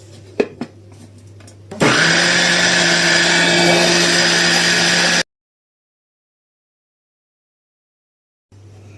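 A blender roars to life after a few clicks and knocks, blending a lentil mixture with yogurt in a loud steady whir for about three seconds before cutting off abruptly into silence.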